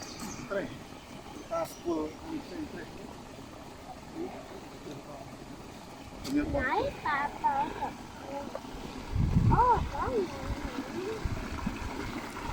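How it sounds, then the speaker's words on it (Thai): Water trickles and flows steadily in the background in rice paddy fields while people talk over it, with occasional light splashes. "เสียงน้ำไหล"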